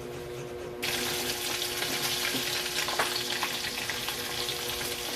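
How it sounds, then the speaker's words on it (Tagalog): Tuyo, salted dried fish, fries in a pan with a dense, steady sizzle that bursts in suddenly about a second in and then holds loud and close, with a few faint pops, no one speaking. "Nagprito tayo ng tuyo."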